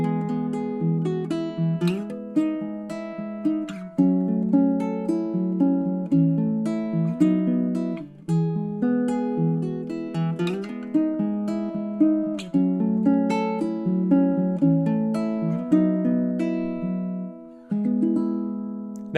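A ukulele fingerpicked with the ring finger standing in for the middle finger in three-finger patterns, a steady flowing run of plucked notes and chords played solo, close and clear.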